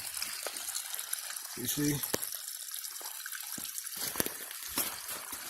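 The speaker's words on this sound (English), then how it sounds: "The water coming from somewhere continually." Water trickling steadily from a river source in the Jordan, a continuous wet hiss with someone speaking briefly over it outdoors.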